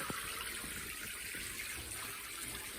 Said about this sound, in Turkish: Suyumuz azaldı demek ki artık. Çok az akıyor.